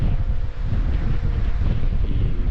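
Wind blows across open Patagonian countryside along Ruta J, a steady loud roar buffeting the microphone with brief gusty dips, and no voices.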